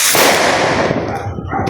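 New Year fireworks explode close by in one loud, sustained burst of crackling booms and rumbling reports, with no talk heard.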